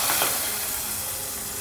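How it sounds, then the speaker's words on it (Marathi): A hot tempering with curry leaves and asafoetida is poured into a sprouted moong gravy, giving a brief loud hiss and sizzle that fades slightly over under two seconds, with no talk. "आता ही सगळी फोडणी आपण आपल्या ग्रेव्हीत घालूया।"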